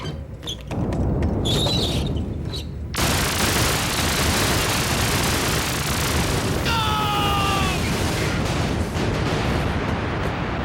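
Dense, continuous cartoon gunfire fills the scene, a loud sustained barrage of shots and bursts with a few bright whistling electronic tones partway through, and no talking over it.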